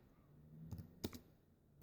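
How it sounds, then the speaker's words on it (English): A few soft keystrokes click on a computer keyboard while a command is typed in, sounding as quiet, separate taps close by. "just going to type that in again"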